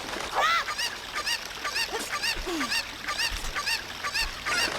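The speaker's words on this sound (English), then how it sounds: "Come here, you stupid ass chicken" Chickens (cuccos) squawk repeatedly in The Legend of Zelda: Ocarina of Time, a run of short, sharp clucks and honk-like cries in quick succession at moderate volume, with no talk over them.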